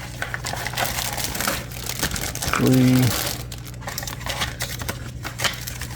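Plastic bags holding parts of an Academy F4U-4 Corsair model kit crinkle and rustle as they are handled, a steady close crumpling texture through the clip with a brief louder crunch midway.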